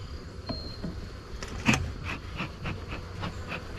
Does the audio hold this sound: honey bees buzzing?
yes